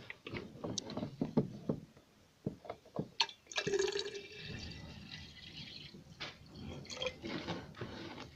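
Distilled water poured into an aqua regia gold solution from a ceramic CPU, a continuous liquid splash and trickle with scattered drips and clinks running through the clip.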